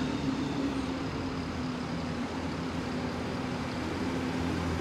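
A bus in newer livery pulls into the new Exeter bus station, a steady low engine rumble and broad road noise holding level throughout, moderately close with no clear voices.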